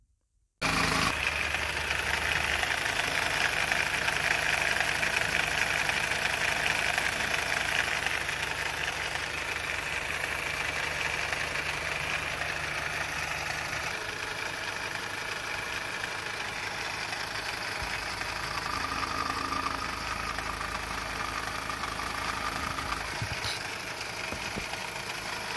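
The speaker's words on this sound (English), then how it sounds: "the noise is coming from the lower part of the engine and the timing chain side, precisely at this very place." A Mazda 2.2 Skyactiv D diesel engine idles at close range with a faulty noise from the lower timing chain side, a steady rumbling drone with a faint repetitive knock that runs unbroken throughout.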